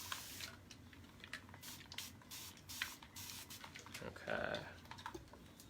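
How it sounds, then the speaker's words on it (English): A spray bottle mists hair during a shaggy bob haircut, giving several short hissing puffs at close range, with a person talking softly alongside. "I'm going to mist just a little bit more"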